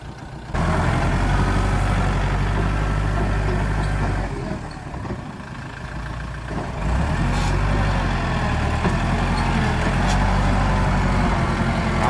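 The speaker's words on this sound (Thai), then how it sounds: "มาดูรถไถครับ คลิปนี้พาชมรถไถ" A Thai L5018 farm tractor engine runs close by at a work site, a loud, continuous low rumble that eases briefly around the middle and then returns to full strength, with no talking.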